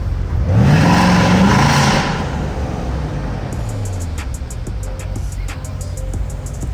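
A 23-year-old Mercedes with 555 horsepower accelerating hard, its engine swelling into a loud rising roar that peaks early, then settles into a steady, powerful drone heard from inside the car.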